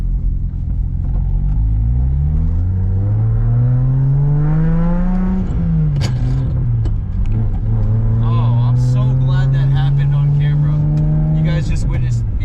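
A BMW 335i drift car engine revs loud and close, climbing in pitch, dropping sharply mid-clip with a rough gear change into second, then holding a steady high drone.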